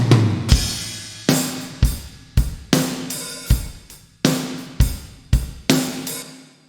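Drum kit with parallel compression and room processing, a steady beat of kick and snare hits with cymbals, dense and sustained, no voices.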